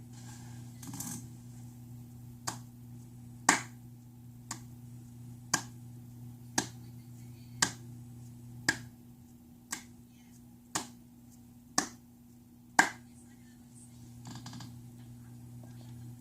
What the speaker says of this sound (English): I'm clapping because the Astros once again swept the Rangers this season.